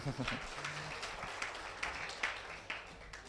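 A church congregation applauds during an online Sunday service, a soft, fairly distant patter of clapping that follows a brief voice at the start and fades to a light scattered texture.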